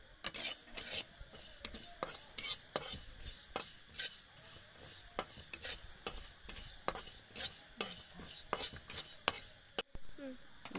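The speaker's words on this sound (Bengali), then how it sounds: "কিছু জিরা, আর কিছু গরম মশলা দিয়ে দিয়েছি। এগুলোকে একটু ভাজতে হবে হালকা লালচে" Cumin and garam masala spices fry in a pan with a light sizzle under frequent sharp scrapes and clinks of a spoon stirring against the metal, close and rhythmic.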